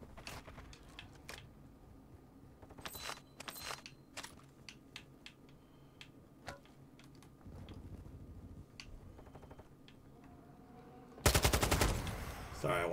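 Video game gun firing in bursts: scattered sharp shots early on, then a dense rapid automatic burst near the end, loud and close against quiet game background with no talk.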